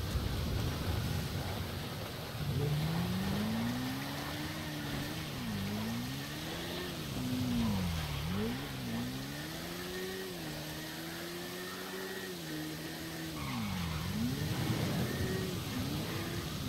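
A car engine in GTA 5 Online rises and falls in pitch as the vehicle drives up and arrives, a steady revving hum over background game ambience with no speech.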